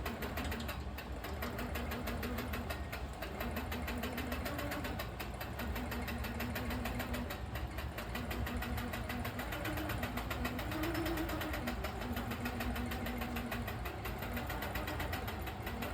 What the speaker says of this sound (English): You can see how easily the machine moves across it.